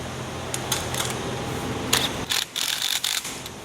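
An impact wrench snugs bolts on a commercial walk-in Christmas ornament, giving a few short, rattling mechanical bursts near the end over a steady background hum.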